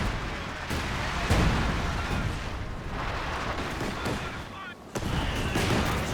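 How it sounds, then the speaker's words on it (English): Incendiary artillery barrages in a 4v4 Company of Heroes 2 match, a dense, continuous rumble of distant shelling and gunfire with repeated heavier thuds throughout, under faint battle noise. "Many incendiary barrages running in this region."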